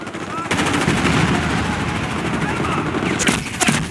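Dense, continuous automatic gunfire in Medal of Honor, loud and close, forming a steady roar of rapid shots with a few sharper cracks near the end and faint voices mixed in.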